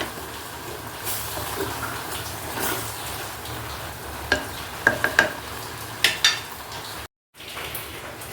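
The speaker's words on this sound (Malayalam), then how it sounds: "ഞാൻ നന്നായിട്ട് ഇളക്കി കൊടുക്കുക" Curd curry being stirred in a pan on a gas stove, a steady low sizzle with a few sharp spoon scrapes and clinks near the end and a brief silent break.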